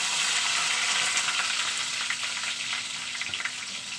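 Chopped tomato fries in oil with a bay leaf, making a dense, close, continuous sizzle that eases slightly toward the end, with a faint stir or two and no voices.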